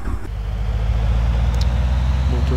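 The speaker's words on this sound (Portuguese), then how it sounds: "Então vamos dar o starter." The engine starter of a Robinson R44 helicopter in the FSX flight simulator, a loud, steady low rumble with a mechanical drone that holds constant throughout.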